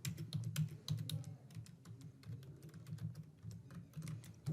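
Steady typing on a computer keyboard while entering a product description, a fast irregular patter of close, fairly quiet key clicks over a low background hum, with no speech.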